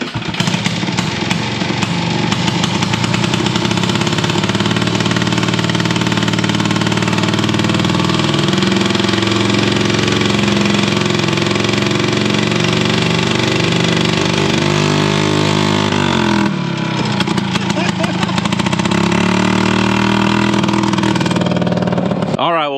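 A Harley motorcycle engine runs loud and close on a first test drive on a ranch. It holds a steady, throbbing idle-to-low-speed rumble that changes pitch briefly near the end.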